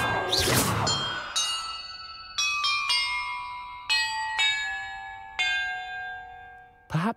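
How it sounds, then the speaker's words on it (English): Struck bells in a Hogwarts Legacy puzzle chime one by one after a brief noisy whoosh, each clear, resonant tone ringing out and fading before the next, in an uneven sequence of about seven strikes. "Perhaps the map contains clues about the order I'm supposed to ring the bells in."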